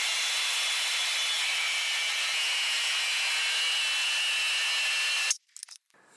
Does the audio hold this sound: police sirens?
no